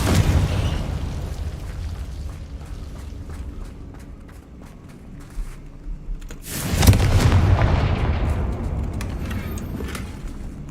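Confringo explosive spell in Hogwarts Legacy: a rumbling game soundscape breaks into a loud, sharp blast that booms and rolls on, then slowly settles back to a lower roar.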